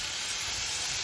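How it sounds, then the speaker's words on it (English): Food frying in a pan inside a motorhome kitchen, heard as a loud, steady, close sizzle with dense crackling throughout and no voices. "that's frying, making a lot of noise for it"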